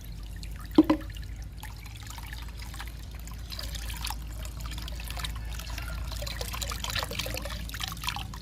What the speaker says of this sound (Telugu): లిక్విడ్ పోస్తున్నా.